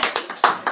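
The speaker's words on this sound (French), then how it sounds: "applaudir de temps en temps quand même" Scattered audience applause in a French talk on the weekly Torah portion, a few short bursts of clapping rising and falling, brief and fairly close.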